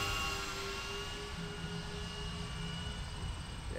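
A Dynam P-61 Black Widow RC warbird, a 1500mm electric model on 4S power, flies at half throttle. It makes a steady, moderately distant engine drone with no talking.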